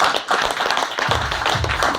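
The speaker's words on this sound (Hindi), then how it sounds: "इनके लिए जोरदार तालियां" An audience at a business event in Goa breaks into a short burst of clapping, with scattered hand claps and some low thumps over a couple of seconds.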